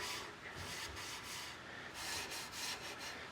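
Feeding wax is rubbed by hand into the wood finish of a chair. Repeated back-and-forth rubbing strokes swell and fade in a loose rhythm, close by and fairly quiet, with no speech.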